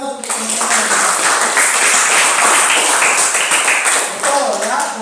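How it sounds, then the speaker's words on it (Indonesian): Schoolchildren in a classroom clap for their classmates, a dense, loud, sustained burst of applause lasting several seconds before it tapers off. "Baik, kita beri aplaus untuk teman-teman."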